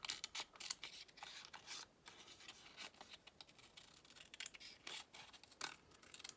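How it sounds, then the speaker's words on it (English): Scissors cutting paper up close, a quiet, steady series of crisp snipping and rasping strokes in an irregular rhythm, faint and with no talk over it. "Let's see if I can cut this straight."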